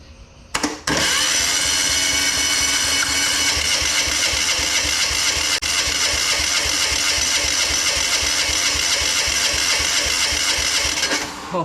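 A portable diesel air compressor engine cranks and catches after a short start, then runs loud and steady with a fast, even rumbling knock for about ten seconds before cutting off.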